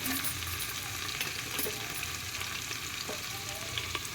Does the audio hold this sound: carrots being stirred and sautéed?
yes